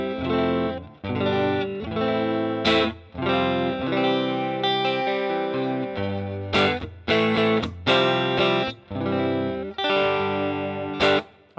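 An electric guitar through a Helix Fullerton Bright amp model and Fullerton cab, with a bright clean tone and a touch of reverb. A series of strummed chords ring out one after another with short gaps between them.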